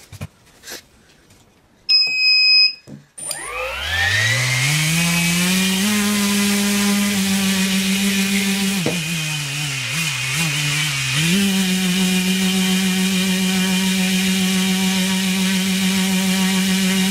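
Tricopter motors with propellers fitted spin up after a few seconds of quiet, climbing to a loud, steady, whining drone that briefly dips and wavers midway before settling back.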